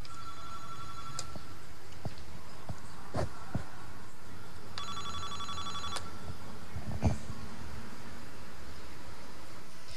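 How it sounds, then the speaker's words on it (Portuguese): A building intercom buzzes with two electronic tone bursts, the second longer, each followed by quiet with no answer, plus faint clicks and room noise. "Eu vou interfonar então para ver se alguém me atende."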